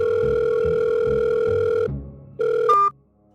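A telephone dial tone plays as a call is placed: a steady electronic tone holds, cuts out briefly, resumes, then ends in a short chirp, loud and close with no speech.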